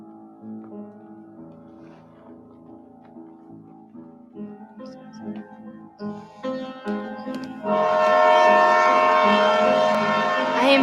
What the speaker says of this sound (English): I feel the train screech to a halt.